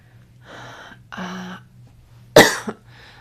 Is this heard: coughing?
yes